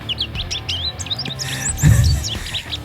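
Close, clear bird calls come as a quick series of high chirps and tweets over a low background murmur, growing louder and busier toward the end.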